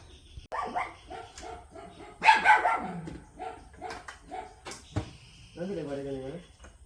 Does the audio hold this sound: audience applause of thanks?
no